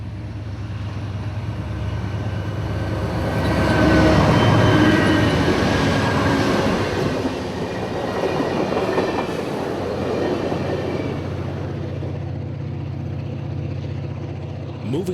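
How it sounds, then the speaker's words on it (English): Amtrak passenger train 92 on the Auburndale connection in Florida, bound for Lakeland and Tampa, rumbling past close by with a steady broad roar that swells midway, a low droning hum underneath. "This is Amtrak 92 on that connection,"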